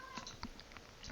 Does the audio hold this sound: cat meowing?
yes